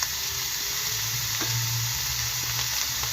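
Ground meat spread on a flatbread fries face-down in a pan, giving a steady, close hiss of sizzling fat with faint crackles throughout and no voices.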